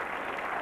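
Brief sprinkle of rain falling over an outdoor tennis court in Durban, a steady broadband patter like light applause, even and continuous with no voices.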